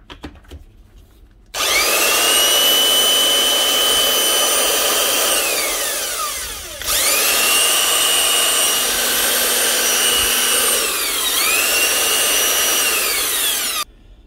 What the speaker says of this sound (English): 25-year-old Makita 3/4 inch nut gun.